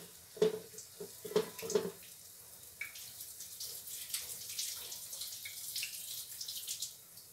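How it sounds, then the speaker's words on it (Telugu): Water runs from a kitchen tap as hands are washed beneath it, starting with a few splashy knocks and bursts, then a softer uneven trickling and splashing, close and fairly quiet, with no voices. "సో ఇప్పుడు హ్యాండ్ వాష్ చేద్దాం."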